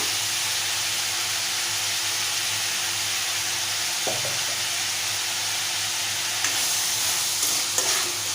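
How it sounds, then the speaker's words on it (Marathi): Drumstick pods, brinjal and potato sauté in a pan for a curry, giving a steady, close sizzle with a few scraping stirs midway and toward the end. "परतून घेऊया"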